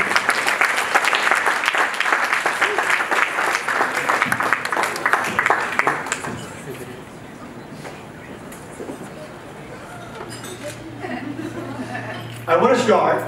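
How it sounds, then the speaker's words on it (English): Guests at Brett and Ishrat's wedding reception clap loudly for several seconds, then the applause fades into quieter crowd murmur with light laughter and chatter, followed by a short renewed burst near the end. "A round of applause for Robbie Corday, please."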